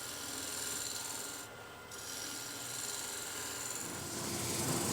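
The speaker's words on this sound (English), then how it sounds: "I use this spear point scraper just to remove any knobs or any hiccup that I had when using bow gouge" A spear point scraper rasps lightly across a green elm surface on a lathe, giving a steady, soft, dry scraping hiss with a brief pause, close and fairly quiet.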